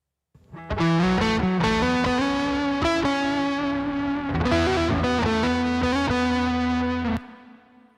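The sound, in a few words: guitar mix with compression and reverb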